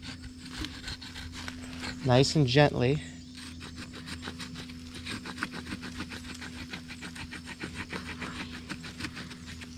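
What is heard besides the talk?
stone knife sawing wood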